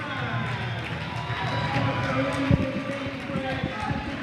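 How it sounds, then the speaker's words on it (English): A high school basketball crowd fills a gym, a steady murmur of many voices with shoe squeaks and a thud of a bounce. A commentator talks over it throughout. "A really good crowd for Nokomis on the road."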